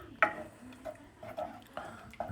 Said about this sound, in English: I've just added the milk slowly, and then I'll just stir in all the time